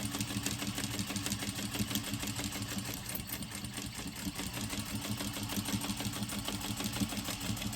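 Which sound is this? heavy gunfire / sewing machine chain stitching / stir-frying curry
sewing machine chain stitching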